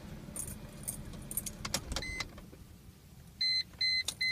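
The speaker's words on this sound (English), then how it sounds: "I'll pull out the key" Keys jingle in the ignition of a running Mercedes as they are pulled out, followed by several loud electronic dashboard chimes in quick regular bursts, close in the cabin over a low engine hum.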